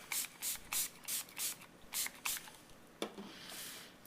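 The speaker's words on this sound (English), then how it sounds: "take my mister bottle and just spritz it with water" Handheld mister bottle spritzing water onto a broad striped rubber stamp, a run of about eight quick soft sprays in a steady rhythm, close and quiet, followed by a faint rub.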